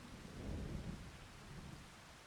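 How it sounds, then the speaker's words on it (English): Rain pours in the video game Farming Simulator while thunder rumbles low and heavy, swelling midway and then easing into a steady wash of rainfall. "It's raining."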